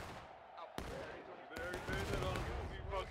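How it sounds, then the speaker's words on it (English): Artillery barrage in the American Civil War game War of Rights on the Pry Ford map, heard as a steady dense rumble with a couple of sharp cracks of cannon fire rising above it. "That concentrated arty barrage into the path that the Union was going"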